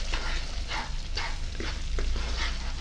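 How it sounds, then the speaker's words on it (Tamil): Curry masala bubbles in a pan for a Tamil mural fish curry with tamarind, a soft steady sizzle and simmer with faint scraping, close and moderately loud. "சரி, எல்லாமே நல்லா கொதிச்சுட்டுது."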